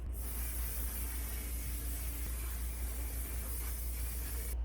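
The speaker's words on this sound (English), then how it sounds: "So this is what we're gonna spray on next." Makeup setting spray misted onto a face while getting ready, a steady close hiss that runs evenly for several seconds with no talking.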